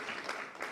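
A short burst of crowd applause, a dense wash of clapping at moderate volume.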